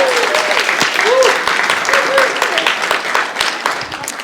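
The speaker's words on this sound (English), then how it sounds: "how about another round of applause for everyone today that we're celebrating?" Audience applause at a graduation celebration, a sustained patter of clapping with occasional voices and murmurs mixed in, moderately loud and steady before fading slightly.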